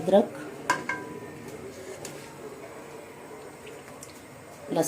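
Metallic clatters and clinks as beef is added to a cooking pot with garlic, plus utensils and a few scattered knocks, with faint kitchen background and no clear speech.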